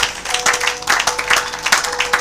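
A church congregation applauding during a worship service, with dense, uneven clapping from many hands at a steady level throughout.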